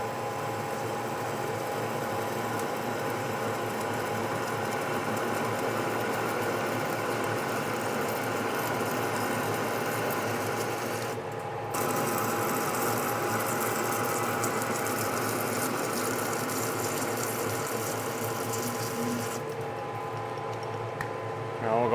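A metal lathe running steadily while cutting 3-inch studs, with a continuous mechanical hum and whirr and a fine, even chatter. One brief shift partway through alters the texture of the noise.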